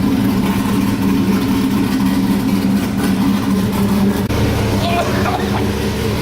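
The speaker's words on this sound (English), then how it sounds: "I forgot there's no exhaust on it. So loud." A loud, raw car engine with no exhaust fitted idles and rumbles steadily with a harsh low drone, unmuffled and close, with faint voices in the background.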